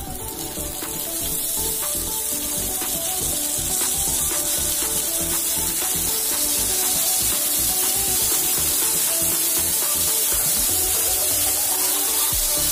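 Chopped onion and capsicum sizzle and fry in hot oil in a pan for pav bhaji, a steady loud crackling hiss throughout with occasional stirring scrapes and no talking.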